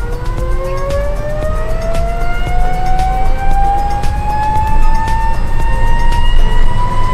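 A Mahindra Treo electric autorickshaw pulls away from a standstill, its steady rising electric-motor whine climbing in pitch as it accelerates, loud and close over continuous road rumble.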